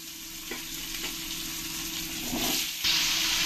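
Potatoes fry in oil left over from frying fish, giving a steady sizzle with a few brief stirring scrapes and a louder burst of spattering near the end.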